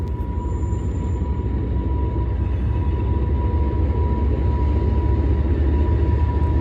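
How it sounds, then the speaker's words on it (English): A CSX 100-car freight train crawls around the wye at Deshler, Ohio, at about 10 mph, giving a loud, unbroken low rumble with a faint steady whine above it. "even with an 100-car train like this one, it still took about 10 minutes to pass"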